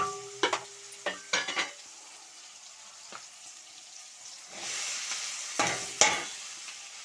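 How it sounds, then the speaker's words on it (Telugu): Okra cooking in a pan, with a low sizzle under several sharp stirring clatters and spoon knocks spread across the stretch, close and otherwise quiet, no talking. "అన్నీ బెండకాయలు వేసి ఇలా మగ్గనివ్వాలి"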